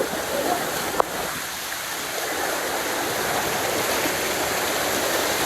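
Steady broadband rush of water at a hidden waterfall on a trekking trail, a continuous close roar with a single sharp click near the start and no talk.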